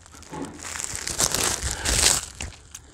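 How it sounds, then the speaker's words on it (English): Paper wrapping on a packaged gift box crinkles and tears in bursts of crumpling, loudest around the middle of the stretch, close up with no talk. "Get it unwrapped."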